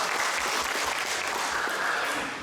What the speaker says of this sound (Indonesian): Tepuk tangan dulu kita untuk ketua kita.